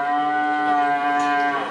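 A cow moos in one long, loud, sustained low call that holds steady for nearly two seconds, part of a cowboy Christmas puppet play, with no voices over it.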